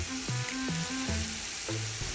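Onions and tomatoes frying in a pot for chicken biryani, a continuous close sizzle with stepping musical tones playing over it.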